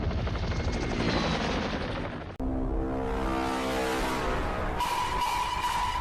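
A CGI helicopter from the Golgo 13 anime film roars with a loud, steady rotor drone. The sound cuts out abruptly midway, then returns with a rhythmic chopping whine and a high tonal hum.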